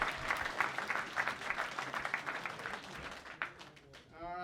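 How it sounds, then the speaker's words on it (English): An audience at a comedy roast claps in a dense round of applause that fades after about three seconds, with a few isolated claps and a voice starting to speak at the end. "Fucking round of applause or something."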